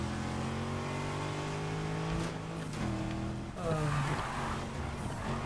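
A car in a racing video game revs hard through several rising engine pulls and gear shifts, a loud, close, tonal whine that climbs, drops and surges again, with no talk over it.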